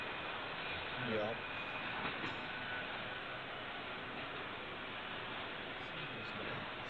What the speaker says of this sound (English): pretty standard auto rack train